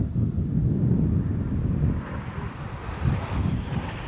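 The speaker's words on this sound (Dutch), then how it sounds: "each aircraft follows the leader as he pulls up for the caterpillar" Aircraft flying in formation at the 1999 Koksijde airshow, with a broad roaring engine rumble mixed with wind buffeting, loud at first and then easing into a fluctuating distant drone.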